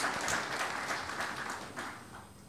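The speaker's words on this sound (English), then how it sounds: "So let's give a round of applause to Chef Thiru and his team" An audience at a hotel management course orientation program applauds with a brief, fairly soft patter of many hands clapping at once.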